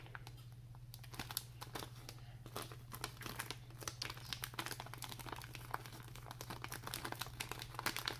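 Contact paper crinkling and crackling as it is peeled up and repositioned during a cellophane-wings craft, dense irregular crisp rustles up close with a steady low hum beneath.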